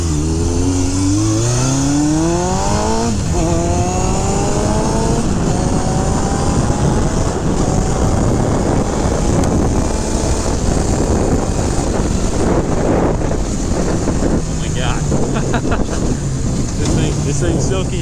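A 1978 Honda CB750F Super Sport with an air-cooled inline-four engine is ridden, revving up through the gears in rising sweeps and then cruising, loud and close under heavy wind rush.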